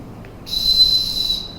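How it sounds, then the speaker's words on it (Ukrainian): A single loud, steady high whistle, blown as a rescue signal to be found under rubble, starting abruptly and holding close and unbroken to the end. "Ну ви можете свиснути"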